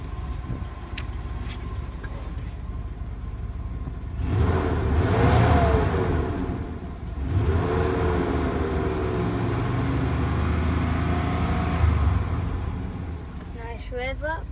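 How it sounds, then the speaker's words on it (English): A 1998 Chevy Silverado truck engine idling, then revving up twice with rising and falling pitch before settling back, heard up close with a person talking briefly at the start. "Go ahead and rev it up for you."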